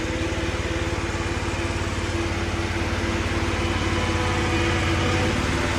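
A Ferris ISX 800 zero-turn mower engine runs steadily at high revs, a loud, close, continuous drone with no one speaking.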